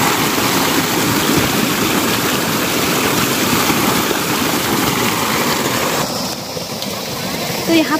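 Water pours steadily into a flooded farm field, a loud, unbroken rushing close at hand that eases slightly near the end.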